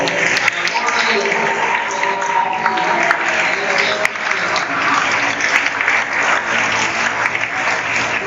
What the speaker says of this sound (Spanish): Un aplauso al amor de Dios.